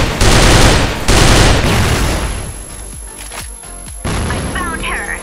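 A grenade blows up in Crossfire, a loud booming burst right at the start followed by a second heavy blast and then fading rumble, with scattered gunshots and a sharp hit near the end.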